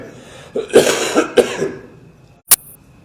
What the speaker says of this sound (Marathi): आज खोकला झालं, सॉरी.